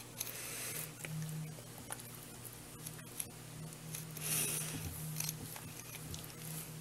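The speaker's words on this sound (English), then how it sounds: "just cut right under the skin, all the way through the back of the fish" A knife that is not overly sharp slices under the skin along the back of a bullhead catfish during filleting, making soft, wet, close scraping and squishing sounds over a steady low background hum.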